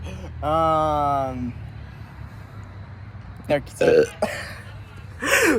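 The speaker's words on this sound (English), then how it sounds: "First burp of the video." A long, drawn-out voiced burp rings out near the start, followed by quieter rustling and a few short, breathy vocal bursts.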